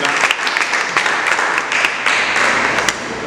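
An audience applauds to welcome the director Yves Augustin at a conference-debate marking fifteen years since the earthquake. The clapping is steady and dense, the crowd sounds fairly close, and it keeps going with no pause.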